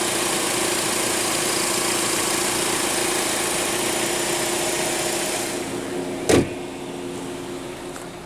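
A car with a 2.4-liter engine idles with a steady, even hum and light vibration, then quiets noticeably, followed by a single sharp click or thump.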